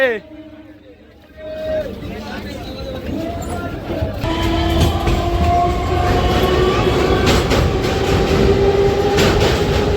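A passenger train pulls into a station and sets off again: a steady rumbling roar with squealing tones, swelling louder after a quieter start, while voices talk nearby.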